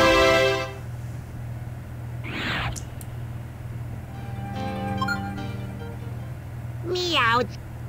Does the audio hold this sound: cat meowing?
yes